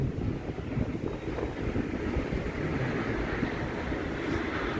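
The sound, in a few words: wind blowing into microphone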